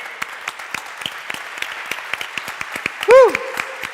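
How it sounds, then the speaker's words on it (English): A conference crowd at Wasm I/O 2025 claps in a dense, steady round of applause that fills the room, with one sharp whoop rising above it near the end. "let's give another round of applause for Sergi for organizing this for the third"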